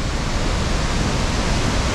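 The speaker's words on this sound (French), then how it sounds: "avec ce qui pleut depuis plusieurs jours, c'est des cascades de malades." A waterfall in the Jura, swollen by several days of heavy rain, roars in a dense, steady, loud rush of falling water heard from close by, with no voices.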